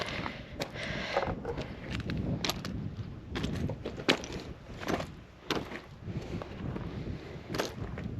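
Breezy wind gusts over a Lake District mountain ridge near Blencathra, a steady rushing buffet on the microphone broken by sharp bumps and knocks.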